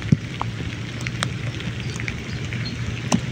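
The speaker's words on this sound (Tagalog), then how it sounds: "ngayon ay malakas pa rin ang ulan, no?" Steady, dense hiss of heavy rain falling on surfaces at a bridge in Taguig, Philippines, with occasional faint taps and drips, no voices.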